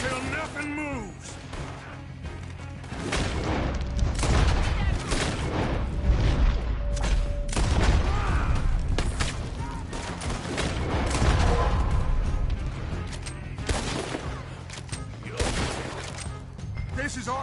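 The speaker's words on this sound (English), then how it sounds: "Just keep shooting till nothing moves" Gunfire shootout in Red Dead Redemption 2, dense overlapping gunshots and booming blasts rattling continuously against an enemy on a balcony, with voices shouting over the din.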